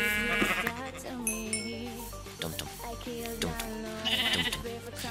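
Sheep bleating in the video game Minecraft, several wavering calls rising and falling over a few seconds, fairly close and loud, mixed with game background sounds.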